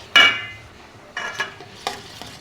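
Eggs, milk, sugar and salt whisked by hand in a bowl for pudding, a few brisk scraping strokes against the bowl separated by short pauses, close and fairly quiet.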